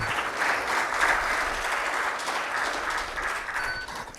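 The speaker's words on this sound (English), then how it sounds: "Can we have a big round of applause once again?" Steady applause from an audience at a university signing ceremony, moderate and continuous throughout, with a few scattered voices beneath.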